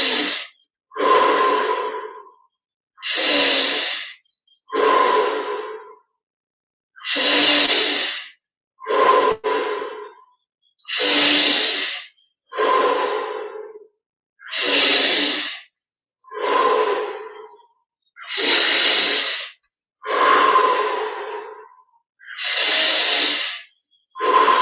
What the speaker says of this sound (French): Et on respire profondément